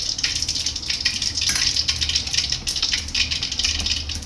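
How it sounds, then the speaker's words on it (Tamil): Mustard seeds spluttering in hot oil in a home kitchen, a loud, dense crackle with rapid pops continuing throughout. "கடுகு பொரிஞ்சிச்சு"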